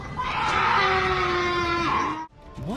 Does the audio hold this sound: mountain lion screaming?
yes